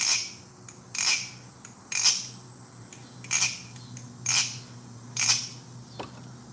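A balisong butterfly knife with crinkle-cut-textured handles and bearing bushings is flipped in regular strokes, each a crisp metallic swish-and-click about once per second, six or seven in a row, close and clear with a faint hum underneath.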